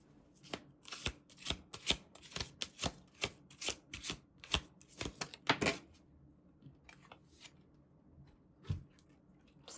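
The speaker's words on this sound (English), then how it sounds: "I want to pull one more card." Tarot cards are shuffled in quick, crisp riffling bursts close by, then a card is pulled with a few lighter flicks and slides.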